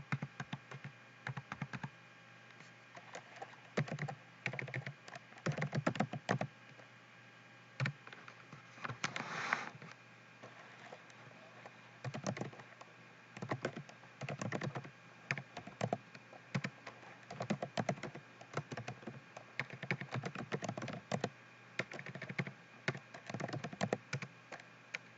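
Computer keyboard typing runs steadily through the whole stretch as a business registration number and other fields are entered in accounting software practice, with irregular bursts of close, light key clicks and brief pauses between them.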